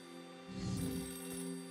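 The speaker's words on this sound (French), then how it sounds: "Ring, ring, ring, le téléphone sonne." A telephone rings in the video game Narita Boy, a sustained electronic ringing tone with a steady layered buzz that swells briefly in the middle, with no talking over it.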